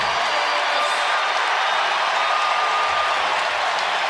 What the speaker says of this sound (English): Bobby Portis with a tremendous applause from the Fiserv faithful